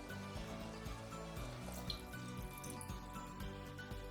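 Water pouring from a glass into a pot of prawns, a continuous splashing trickle with faint dripping, close and fairly quiet, no speech.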